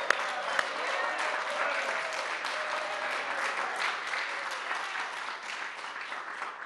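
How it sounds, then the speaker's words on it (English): A room of listeners gives a steady round of applause for author Bob Deans at a book talk, moderately distant and even, with no voices over it. "Please join me really quick in just giving him a round of applause"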